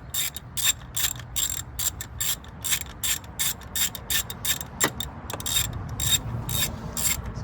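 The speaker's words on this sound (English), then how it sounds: "I'm gonna tighten these screws" Screws being tightened with a ratchet on the cooling system bypass line adapter of a 2010-2013 Ford Transit Connect, a steady run of quick clicking pawl strokes in short bursts, close up and alone.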